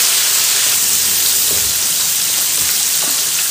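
Floured tilapia pieces fry in hot oil, giving a loud, continuous sizzling hiss that stays even and unbroken for the whole stretch, with no voices over it.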